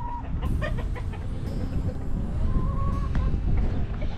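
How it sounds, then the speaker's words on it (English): Chickens cluck and murmur close by in a steady jumble of short calls, with a noisy outdoor background throughout. "Hey, chickens."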